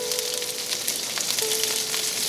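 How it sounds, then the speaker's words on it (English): Broccoli hitting a hot pan, a steady loud sizzle of frying with a faint hiss running throughout, no voices. "Then you add your broccoli."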